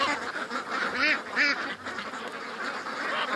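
Ducks quack in several nasal, rising calls bunched near the middle, moderately close over a steady outdoor background, with Muscovy cross ducks among the flock during a duck hunt.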